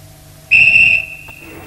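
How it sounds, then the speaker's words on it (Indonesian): A single long, shrill whistle blast sounds sharply for about half a second, then a thinner tone lingers over a quiet background. "suara lengkingan peluit panjang dari Komandan Operasi sebagai tanda bahwa sasaran telah tertangkap"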